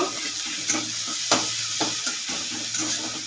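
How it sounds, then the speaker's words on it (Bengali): Garlic fries in a pan, giving a continuous close sizzle broken by several clear scraping stirs of a utensil. "রসুনটা জাস্ট একটু কাঁচা ভাবটা কাটিয়ে নেব"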